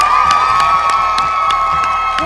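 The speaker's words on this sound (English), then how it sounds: "Please give her one more round of applause." A studio audience at a TV show taping applauds and cheers a poet, loud and close, with whoops and shouts over steady clapping and a sustained tone running underneath.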